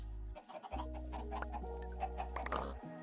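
Minecraft chickens cluck in short, repeated clucks over a low steady game hum, fairly quiet and free of talk.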